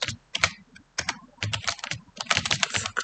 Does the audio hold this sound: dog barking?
no